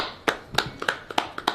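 A handful of scattered handclaps from an audience at a French comedy show, six sharp, fairly close claps spaced unevenly over a moment with no talking.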